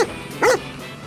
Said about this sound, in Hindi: उसे फिर से रोनी के भौंकने की आवाज सुनाई दी